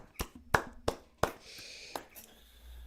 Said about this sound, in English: let's get some round of applause in there for Pokebran